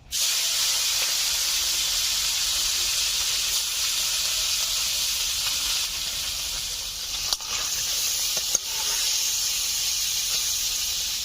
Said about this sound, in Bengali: তেল গরম হয়ে গেছে, মাছগুলোকে ভেজে নিচ্ছি।